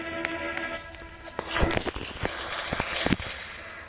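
Sharp gunshot cracks in the Roblox game Dead Sewer, a few irregular bursts, loud against a busy backdrop of game noise.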